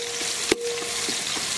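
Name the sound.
onions frying in oil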